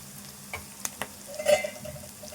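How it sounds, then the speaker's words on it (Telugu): Ingredients for a prawn curry fry in a pan with a soft steady sizzle, punctuated by a few sharp clicks and scrapes of stirring, close and with no talking. "ఇది కూడా వేగదాకా వేపుకుందాము. ఇట్లా వేగాలి."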